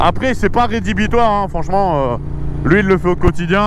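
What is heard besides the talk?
No everyday noise stands out behind the speech.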